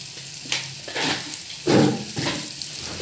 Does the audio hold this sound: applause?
no